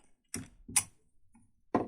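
An adjustable wrench is being set on a faucet cartridge, giving sharp metallic clicks and ticks, a few separate knocks spaced apart against near silence.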